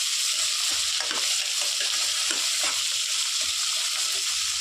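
Peanuts and green chilies frying in a pan for lemon rice, a constant bright sizzle with occasional soft stirring scrapes, close and steady throughout, with no voices.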